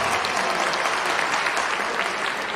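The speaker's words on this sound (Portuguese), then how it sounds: "Aplausos para Rosângela Leocádio," Applause for an athlete at the Ponchet Classic 2011 competition, a dense, even wash of crowd clapping that stays loud and unbroken throughout.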